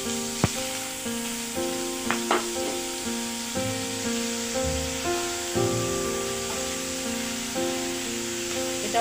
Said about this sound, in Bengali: এই তেলের মধ্যে দিয়ে দেব আমি একদম পরিষ্কার করে রাখা কিছু চিংড়ি মাছ